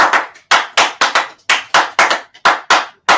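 A talk-show studio audience claps in short separate bursts, about ten quick rounds of loud, close clapping, each lasting a fraction of a second with brief gaps between them, and no talking.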